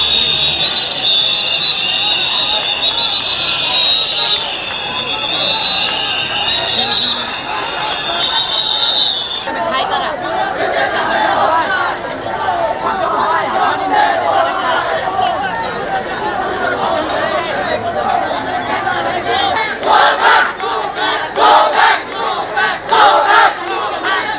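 A large street crowd at a Dhaka protest boos and chants slogans at police, a dense roar of many voices with a high shrill tone early on, then rising rhythmic shouting.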